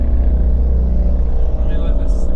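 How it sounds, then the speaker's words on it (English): A motorcycle passes nearby on a road, its engine a heavy low rumble that fills the moment, with a faint higher whine rising near the end and a voice speaking over it. "let me let this motorcycle pass us"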